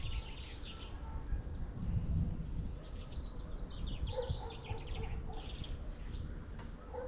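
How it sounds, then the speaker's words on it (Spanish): Small birds chirp and twitter intermittently in the distance, faint high calls scattered over a steady outdoor rumble. "Es como si los pajaritos nos estuvieran diciendo algo."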